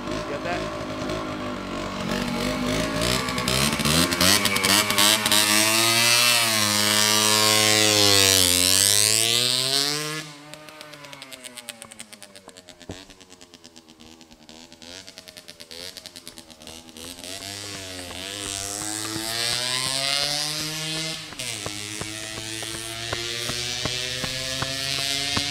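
A 1982 Honda MB5 motorcycle engine held at full throttle, its loud whining note rising and falling through long sweeps, easing off midway before climbing again, with no talk over it.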